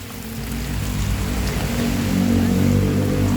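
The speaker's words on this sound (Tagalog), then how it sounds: "Maulan po. Inabot kami ng ulan." Steady rain falls in a constant hiss, close and even, with no voices.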